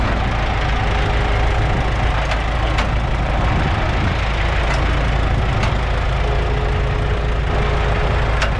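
A bulldozer engine runs at a steady, unchanging idle close by, a constant low rumble broken only by a few faint clicks.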